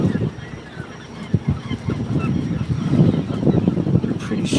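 A group of baby birds calls in quick, honking bursts near a boat at sea, with an engine and water noise running steadily underneath.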